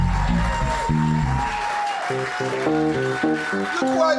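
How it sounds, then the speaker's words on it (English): Audience applause for the musicians at a live benefit concert, clapping and crowd noise running under sustained instrumental chords and a voice, moderately loud throughout. "give an extra round of applause to all these crazy ass, badass musicians"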